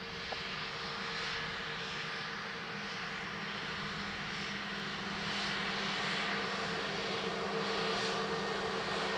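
Airplane approaching the runway threshold at Dublin Airport, a loud, steady engine roar holding for the whole stretch with a slight swell, with no voices.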